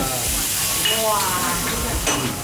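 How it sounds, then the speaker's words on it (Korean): Fried scorched rice (nuryungji) poured by the handful into hot lobster soup at a resort late-night meal, giving a steady broadband sizzle and crackle with a few brief bright pops, fairly close and continuous. "이 탕에다가 튀겨진 누룽지가 한 움큼 부어지는데"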